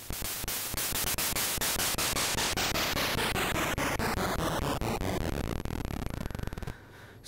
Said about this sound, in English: you reach into the digits, which are the non-tonal noise, the more white noise sounding shapes